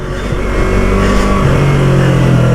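A Yamaha YZF R3 parallel-twin sport motorcycle, 2019 BS4 model, revving up to 13,000 rpm, a loud close engine whose pitch climbs steadily and then holds high as a strong sustained wail, with no talking.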